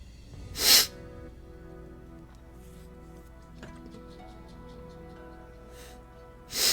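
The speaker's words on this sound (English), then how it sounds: "all of a sudden I just can't stop sneezing." Two loud, sharp sneezes, one near the start and one at the end, break a quiet stretch of faint background music, with a softer nasal sniff in between.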